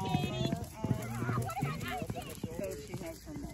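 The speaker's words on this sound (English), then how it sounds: "That horse is so pretty." A horse clip-clops along at a walk during a fun day event, its hoofbeats steady and close. A whinny rises and people chatter and call encouragement over the top.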